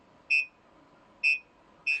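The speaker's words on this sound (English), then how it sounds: "Green, yellow, and red VEC alerts, along with distinct audible beeps, let you know how close you are" Three short, high-pitched electronic truck collision warning beeps spaced about a second apart, clear and close against a faint background hum.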